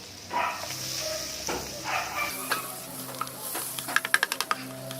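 Garlic and onion sizzling in melted butter in a pan, a soft frying hiss with scraping stirs, then a run of quick metallic spatula taps against the pan near the end.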